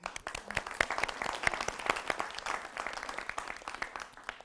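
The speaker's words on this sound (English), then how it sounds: "I'd just like to applaud them for that." Audience applause at a college career demonstration day, a steady patter of many hands clapping at moderate level without pause.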